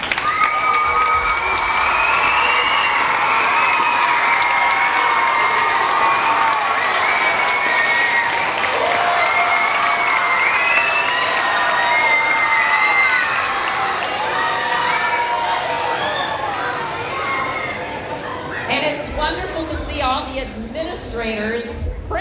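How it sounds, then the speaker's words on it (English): An audience at an elementary school Battle of the Books event applauds and cheers loudly and steadily, with children's shouts and voices rising through the sustained clapping and a brief stretch of louder whoops near the end. "Would all the parents please stand up so we can applaud you?"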